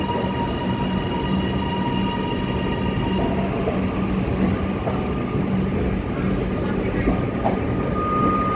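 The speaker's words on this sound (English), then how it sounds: "Doors are locked. Please stand clear. Train now departing." A Melbourne suburban train pulls out of Flinders Street station, a steady mechanical rumble and hum filling the platform with faint squeals and clatter, a continuous moderately loud drone.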